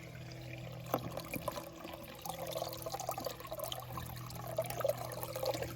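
A stream trickles beside a hiking trail, a faint, continuous bubbling of water with small splashy flickers over a low background hum.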